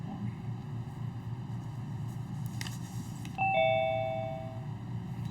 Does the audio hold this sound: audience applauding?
no